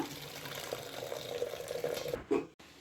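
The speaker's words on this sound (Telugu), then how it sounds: "ఈ నీళ్ళు పారేయకూడదు ఇట్లా వంపేసుకోవాలి" Cooking water is poured off a pot of boiled greens in a quiet, continuous trickling stream that ends with a short splash before stopping.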